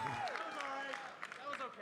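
Esports arena crowd at the MLG Orlando Open 2016 grand final cheers and whistles with scattered clapping, a faint distant roar with rising shouts, under and around a voice.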